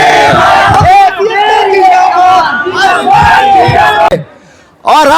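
Loud crowd at a Kurmi community political rally shouting and chanting in unison, dense massed voices in repeated bursts, breaking briefly into near silence before the roar returns.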